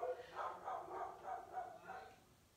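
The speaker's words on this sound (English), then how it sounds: "You're probably going to be able to hear my dogs barking." Dogs barking indoors in a rhythmic run of about seven or eight barks, moderately close and fairly loud, with no speech over them.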